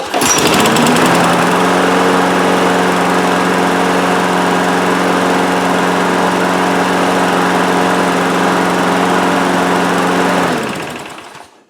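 A lawn mower's small petrol engine restarts and runs at a loud, steady, close drone for about ten seconds before winding down and dying away at the end.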